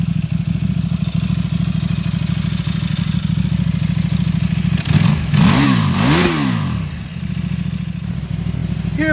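A stock 2010 KTM RC8 motorcycle with a 1190cc engine idles steadily with a lumpy rhythm, then is revved twice in quick sharp blips that rise and fall before settling back to idle, loud and close with no talk.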